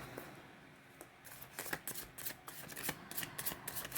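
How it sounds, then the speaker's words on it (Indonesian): Tarot cards shuffled by hand, giving a run of crisp riffling, slapping bursts that start sparse and grow busier and louder, close and alone with no voices. "saya kocok kartunya"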